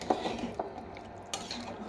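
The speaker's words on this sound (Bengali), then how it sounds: "নেহারিগুলো আমি ভালো করে নেড়ে দিয়েছি" A spoon stirs beef trotter nihari in a cooking pot, giving a few faint metallic scrapes and clinks against the pot, quiet and sparse over a short stretch.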